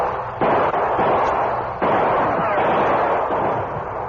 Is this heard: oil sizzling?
no